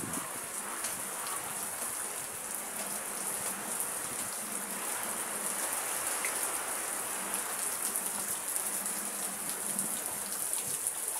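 Steady rain hisses down without a break, a dense wash of drops pattering on surfaces, moderately loud and continuous throughout.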